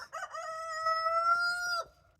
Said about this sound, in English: So this video I'm going to focus on the chickens